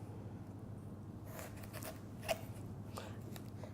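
A knife slicing a vegetable bulb in half on a board: a few soft, crisp cutting crunches and scrapes, faint and close, with no voices.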